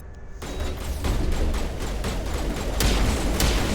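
Sustained gunfire from a battle in Mass Effect Legendary Edition (Mass Effect 1), with dense overlapping shots and blasts forming a loud, continuous barrage and a few sharper cracks standing out near the end.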